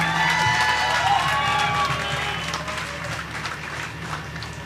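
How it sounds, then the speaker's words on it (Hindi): Audience applause and cheering at a mushaira poetry gathering in Lucknow, a broad sustained crowd sound that is loud at first and gradually eases, with some voices mixed in. "हाथ ऊपर करके धीरेन्द्र ठाकुर के लिए आप जोरदार तालियां"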